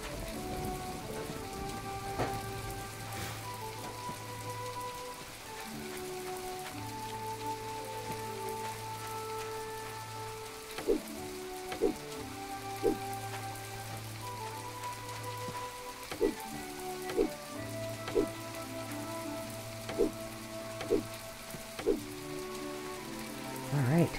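Steady rain patters through a rainstorm in the video game Portia, layered under the game's looping melodic music, with sharp crackling bursts recurring through the second half.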